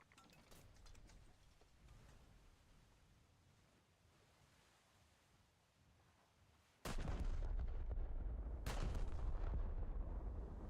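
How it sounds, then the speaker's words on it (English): Heavy tank cannon blasts in a video game, a sudden loud boom at about seven seconds followed by a second shot a couple of seconds later over a constant rumbling battlefield din. "I think some tanks are shooting at you."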